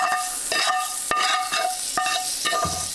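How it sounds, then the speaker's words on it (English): A utensil scrapes crispy bits of slow-cooked hog meat from a hot pan, with repeated sharp scraping strokes over a continuous loud sizzle. "I'm also going to scrape off some of the bits."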